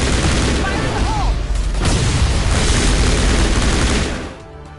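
A grenade blast and gunfire in the Mass Effect 1 video game: loud, dense booms and rapid shots crowd the scene with combat noise, then fade out abruptly near the end.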